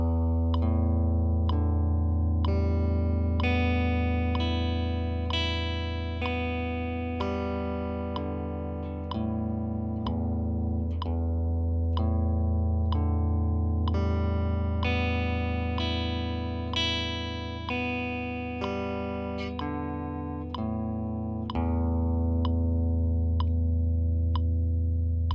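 Electric guitar picked in single upstrokes in time with a metronome: an even run of crisp, ringing notes at a steady beat, each with a sharp click at the attack, played alone with no talk.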